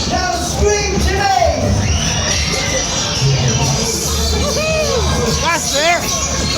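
Riders scream and whoop on a Razzamatazz waltzer fairground ride run by J W Shaw Amusements, a loud crowd babble with rising shrieks over the constant rumble of the ride and music.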